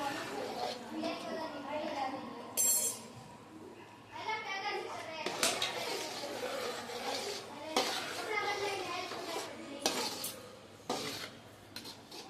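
Chhole with a Kashmiri chilli tempering stirred in a pot, with metal clinks and scrapes coming up in bursts between speech, close by.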